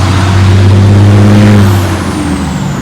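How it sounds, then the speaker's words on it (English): A truck passes close on a road beside a cemetery, its loud engine drone swelling and then easing as it goes by, with a steady rumble and a faint hiss of air brakes. "Truck."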